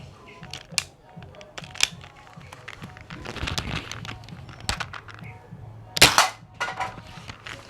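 A homemade wooden slingshot fitted with a laser sight fires several times, giving sharp scattered snaps and clicks, with a louder crack near the end, over a quiet background with a faint voice.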